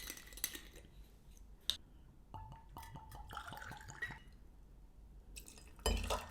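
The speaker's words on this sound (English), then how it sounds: "the first thing I need to add is gin" Ford's London Dry Gin is poured for a cocktail: a quiet, brief trickle with a few drips, then a clatter at the end.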